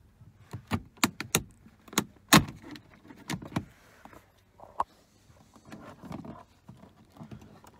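A Citroen C4 Picasso window control panel is pried off with a series of sharp plastic clicks, snaps and knocks, irregular and close, with rattling handling noises between them.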